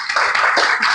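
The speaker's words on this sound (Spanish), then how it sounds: "quiero solo invitarlos a que le demos un fuerte aplauso a Elena" Audience at a talk on picture books and reading development clapping for the guest speaker, a short dense burst of many hands, fairly close and even throughout.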